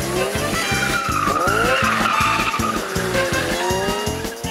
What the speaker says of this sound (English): So whenever you win your next race, you know how to do some donuts.